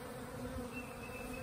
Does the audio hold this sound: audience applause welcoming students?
no